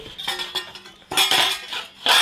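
Plates and utensils clink and clatter in short bursts as they are packed into a hospital delivery bag, close and fairly loud.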